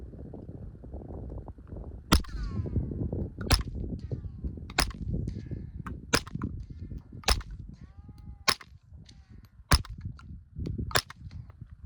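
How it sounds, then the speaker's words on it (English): Suppressed .22 pistol shots from a Retay RA 15-22 fitted with a Sonicore Skarv suppressor, firing subsonic rounds: eight sharp, muffled cracks spaced about a second apart over low background rumble. "Eight shots of subsonic."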